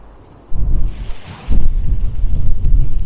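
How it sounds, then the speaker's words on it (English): Strong wind buffets outdoors at a nature reserve beside a river, loud low gusts roaring in bursts against the microphone after a quiet start, with no talking. "Very windy today."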